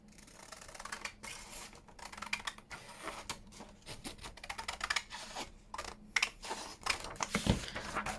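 Scissors cut paper for an envelope journal folio in a crafting session, producing a quiet, irregular string of crisp snips and rustles up close, with no talking.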